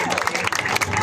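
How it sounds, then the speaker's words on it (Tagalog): Brief burst of audience applause and crowd noise at a beauty pageant event, dense clapping with some voices mixed in. "Wala bang palakpakan dyan?"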